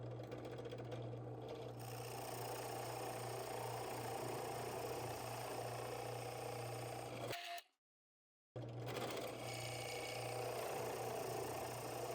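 An unsharpened 1 inch spade bit bores slowly into wood under a drill that whines steadily and strains. The drill runs without pause, cuts out briefly near the end, then resumes.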